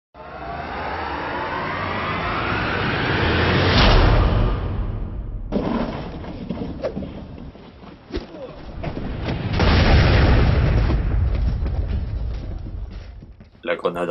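A diamond grenade blowing up in a Minecraft parody ad, heard as loud, rumbling booms that swell and fade in two big waves, with scattered thuds and crackles between them.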